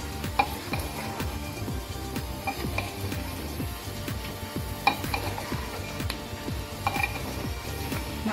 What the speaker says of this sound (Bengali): মাঝে মাঝে এইভাবে একটু নেড়ে নেড়ে কষিয়ে নেব।